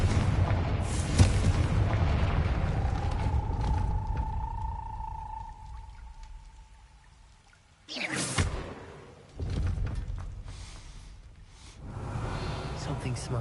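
A Confringo blasting spell cast at a gate in a Harry Potter wizarding video game, heard as two sharp booming bursts near the end that follow a long, quiet magical whistling tone, with game ambience throughout.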